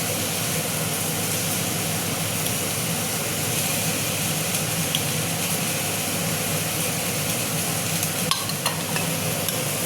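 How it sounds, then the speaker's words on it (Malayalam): Fish frying in a pan of hot oil with turmeric and chili powder, giving a steady, dense sizzle that runs continuously and fairly loud, with a couple of brief crackles near the end and no talking. "അടുത്തത് നളൻ മീൻ വറക്കാൻ പോന്നു."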